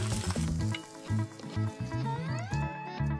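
Tuna ramen with plenty of sliced sesame leaves stir-fried in a pan, giving a steady close sizzle with rhythmic stirring and scraping throughout.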